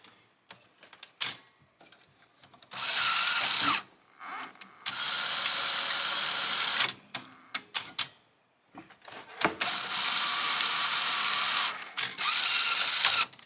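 A Sony SL-HF550 Super Betamax hi-fi VCR loading and threading a tape after repair: bursts of whirring motor drive alternate with mechanical clicks, ratcheting and clunks, close and fairly loud, no talking.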